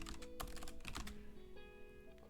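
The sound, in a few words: typing on a computer keyboard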